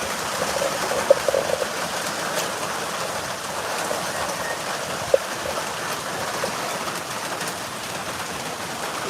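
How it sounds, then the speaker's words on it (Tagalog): Steady rain hisses down continuously, with a couple of faint sharp drips or knocks standing out. "Mukhang hindi po ito titilang ulan na to."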